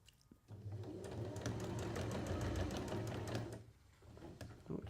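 A sewing machine stitches a quilt seam, starting with a brief whir, then running at a steady, rapid, close rattle for about three seconds before stopping, with a few soft clicks afterwards.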